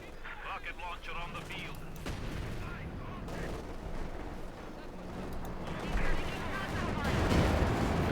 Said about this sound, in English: Good shot from the Panzer on the T-35